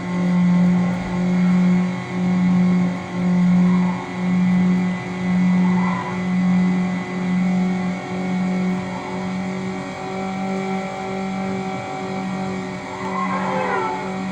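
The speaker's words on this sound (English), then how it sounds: "I really revved that out." Car engine in the 2003 racing video game Need for Speed Underground, revving in a rhythmic pulsing drone of repeated surges that settles into a steadier hum, loud and alone.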